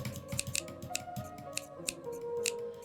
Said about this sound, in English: My shiny pair of scissors should make quick work of this.